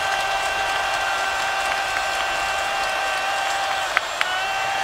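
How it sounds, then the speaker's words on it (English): The home crowd at a Michigan State American football game roars continuously from across the stadium, a broad sustained cheer with a couple of sharp whistle-like peaks near the end. "Michigan State crowd exhorting that defense to make a stand here."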